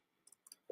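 A computer mouse clicks a few times in quick pairs, sharp and faint, followed by a louder soft thump at the end.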